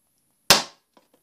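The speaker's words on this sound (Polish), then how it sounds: "Tak, wybuch!" An anti-tank mine explodes beneath a German tank in a video game: one sharp, loud blast that decays within a quarter second, followed by two small faint thuds.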